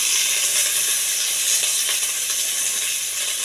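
Mustard seeds, cumin and curry leaves sizzle in hot oil with a loud, steady crackling hiss and scattered tiny pops, close up and uninterrupted.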